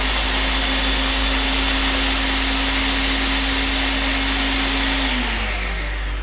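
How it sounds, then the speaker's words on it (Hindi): A blender grinds ingredients for a smooth kala chana gravy, a loud, steady, close whirring roar that runs unbroken and then eases slightly toward the end. "तो अब अगर हमने इसकी स्मूथ ग्रेवी बनानी है तो मैं हर चीज़ को इसमें ग्राइंड करके डाल रही हूँ।"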